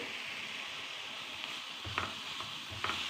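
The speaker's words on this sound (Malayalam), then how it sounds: "ഇതൊന്ന് ഇളക്കാം" Fenugreek leaf thoran being stirred in a pan, a soft steady sizzle with a few light scrapes of the spoon, faint and close with no talking.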